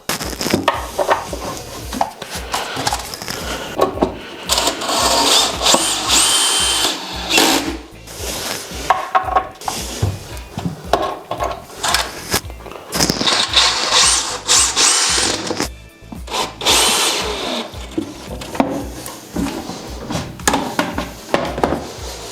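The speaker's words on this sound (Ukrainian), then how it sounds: "Запихаєте або ключик, або шуруповерт, чим що у вас є, і прикручуєте дану перегородку вже сюди." A cordless screwdriver drives screws into a wooden step-pyramid shelving unit during assembly, with repeated loud whirring bursts separated by short pauses and clattering handling sounds.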